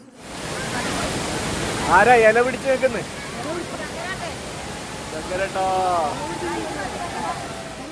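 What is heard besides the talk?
waterfall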